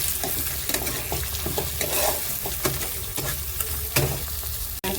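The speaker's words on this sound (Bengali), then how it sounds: "এবার ডিমটাকে আমি নেড়ে একদম একসাথে মিক্স করে দিচ্ছি" Beaten eggs fry and are stirred in a hot pan, a dense continuous sizzle broken by repeated spatula scrapes and taps, loud and close, with nobody speaking.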